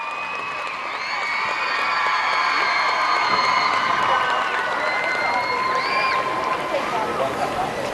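Crowd cheering and applauding at a rhythmic gymnastics group performance at the SEA Games in MyTech Hall 10, Kuala Lumpur, a steady loud roar with shouts and whistles throughout the hall.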